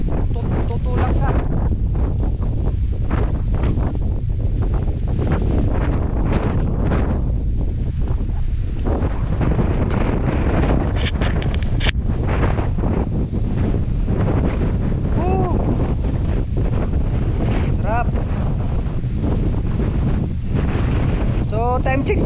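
Loud, steady wind buffets the microphone on an open seaside view deck in Dingalan, Aurora, a continuous roaring rush with people talking intermittently beneath it.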